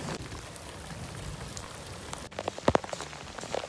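Heavy storm rain pours steadily onto surfaces nearby, a dense continuous patter, followed by a few louder close knocks and thumps near the end.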